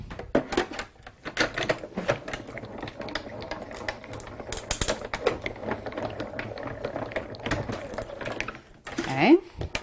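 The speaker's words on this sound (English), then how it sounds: "we're going to pop that into our cutting machine here" A die cutting machine for card making turns as a taped die sandwich is fed through, giving close mechanical ratcheting and gear clicks, with someone talking intermittently over the steady cranking.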